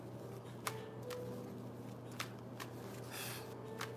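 Soft riffling of oracle cards being shuffled, with a few sharp snaps and light taps spaced out over a quiet background hum.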